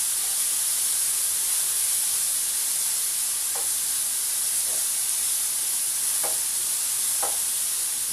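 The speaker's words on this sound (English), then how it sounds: "Now this bacon needs to be fried until it's a little crisp and starts to shed some fat" Bacon frying in a skillet, a steady bright sizzle and hiss throughout, with a few soft stirring clicks and scrapes near the end.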